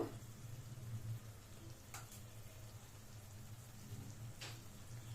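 Eggs frying in a pan for egg fried rice, a soft, steady sizzle with a couple of brief sharper crackles, close and fairly quiet with no talking.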